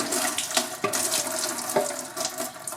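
Fluid draining out of a 5th-generation Ram 2500 with the 6.7-liter diesel during service: a steady, close splashing pour with a few brief louder spurts, and no talk.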